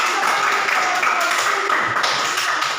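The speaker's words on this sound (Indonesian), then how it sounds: "Oke, tepuk tangan dulu buat kelompok melati ya." Children clapping their hands for a group in a classroom, a dense, even patter of many small claps sustained at steady loudness, close by, with faint chatter underneath.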